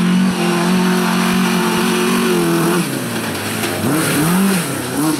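Orange Volvo race car at a sprint race event, a loud, close engine holding a high rev then dropping off, followed by rapid blips and revs rising and falling as it idles past the line.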